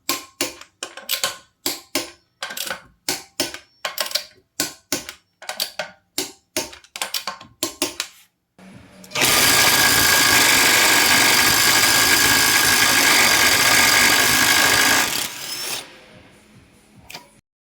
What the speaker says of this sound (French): C'était ma présentation de la boulonneuse Ryobi, la RIW 18.